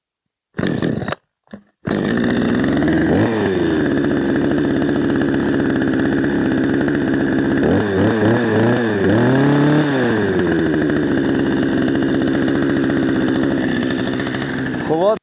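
A repaired ZOMAX 5200 petrol chainsaw sputters through a couple of short start bursts, then catches and runs loud and steady at idle, with a few brief revs rising and falling midway.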